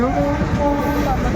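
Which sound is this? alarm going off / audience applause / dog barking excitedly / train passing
train passing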